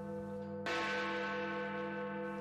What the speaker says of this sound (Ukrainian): його металеві удари лунають лише на 2 традиційні святкування в країні